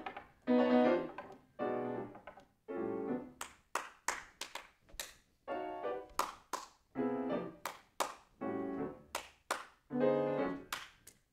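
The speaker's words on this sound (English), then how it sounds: "Like the sound of your clapping." Sharp hand claps in a master class on William Bolcom's The Serpent's Kiss, struck in quick clusters alongside piano chords, crisp and close with short silences between phrases.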